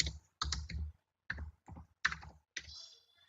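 Keystrokes on a computer keyboard at a desktop computer, in short irregular bursts of clicks separated by brief pauses, fairly close and alone.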